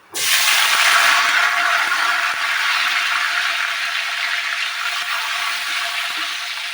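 Chopped tomato lands in hot mustard oil that has been tempered with whole black cumin, and it bursts into a loud, close, continuous sizzle that eases slightly over several seconds.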